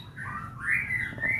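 Three-week-old straw-headed bulbul (cucak rawa) chicks give thin, rising chirps and a brief whistling call, close and fairly faint over a soft background hum.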